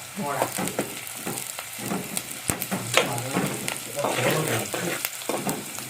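Onions frying in a pan for a Malvani wet cashew usal, a steady close sizzle broken by repeated stirring scrapes, with a voice speaking briefly over it.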